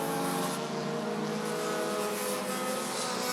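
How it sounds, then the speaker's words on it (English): Race cars on the Rockford Speedway oval in a Bandit feature, a steady loud roar of several engines running together at high revs, continuous and close, with no voices. "And it's Schinderling getting some help from Terry Ciano Jr. as they're coming across that line."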